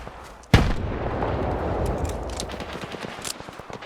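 Rapid gunfire from the video game S.T.A.L.K.E.R. 2: a sharp loud shot followed by sustained bursts of automatic fire and scattered reports, dense and continuous for a few seconds.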